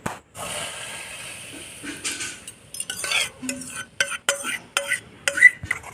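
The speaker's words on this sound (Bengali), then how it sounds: "সমানে আমটাকে নেড়ে যেতে হবে" A spoon stirs raw mango juice with sugar in a wok, making repeated close metallic scrapes and clinks against the pan over a soft hiss.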